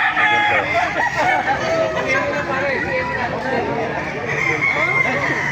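A rooster crows several times at a busy Baliuag tyangge market, loud and close, over constant crowd chatter, clucking fowl and nearby voices talking.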